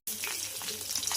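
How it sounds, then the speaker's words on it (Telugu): Onion and tempering spices are tipped into hot oil and crackle into a bright, busy sizzle that starts abruptly and holds up close. "ఇప్పుడైతే పోపు దినుసులన్నీ ఈ ఆయిల్లో వేసుకోవాలి"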